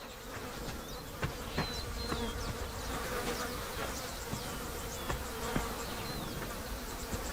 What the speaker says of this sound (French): Les attaques incessantes des mouches et des moustiques importunent les géantes tachetées.